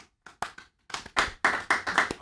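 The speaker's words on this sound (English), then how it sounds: "I say clap it up for the man" Hands clap in a short burst, about ten close, sharp claps that start sparse and speed into a quick run, with no talk over them.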